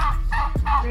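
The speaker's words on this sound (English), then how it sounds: "Wild turkeys talaga." A wild turkey gobbles close by, a loud, rapid burst of throaty warbling calls heard on its own.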